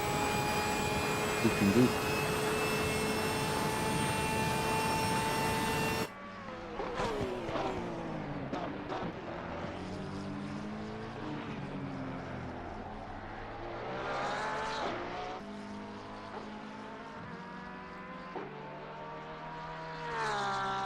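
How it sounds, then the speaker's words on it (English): Porsche race car engine screaming down the Monza straight in Assetto Corsa Competizione, a high steady drone that cuts to an onboard view of rising and falling revs through gear changes, with a brief spoken comment over it. "looking and hearing the sound of the Porsche in the straight"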